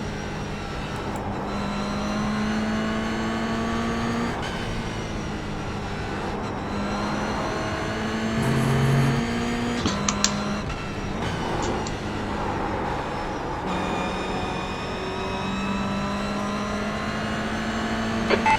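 Toyota GR86 race car engines roar steadily on the Nurburgring track in the iRacing sim, a continuous loud drone with pitch rising and falling through gear changes. Other cars are heard nearby, and there is no talk.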